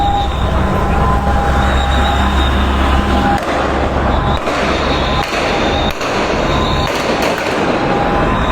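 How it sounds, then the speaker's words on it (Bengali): Gunfire during a night robbery in Dhaka: scattered sharp reports cut through a dense, continuous roar of distant noise, with several bangs spaced a second or so apart. "গুলি চালাচ্ছে"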